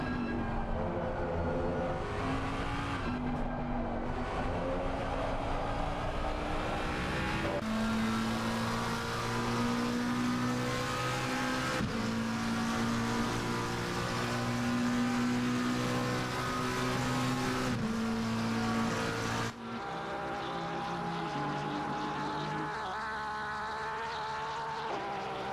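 Race cars in Assetto Corsa Competizione at Indy run down the main straight, a steady high engine drone with shifting pitch as cars pass and change gear, continuous and fairly faint.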